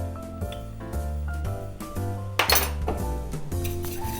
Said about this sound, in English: I'll just whisk those in.